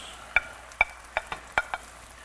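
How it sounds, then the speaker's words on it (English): Pheasant browning in a pan: a quiet bed of sizzle with six sharp metallic taps and scrapes of a utensil against the pan at an uneven pace, close and clear, without voices. "we have been browning our pheasant for a couple of minutes now"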